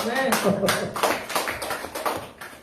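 A church congregation gives a brief burst of clapping, loud and close, with a few uneven claps that fade over a couple of seconds.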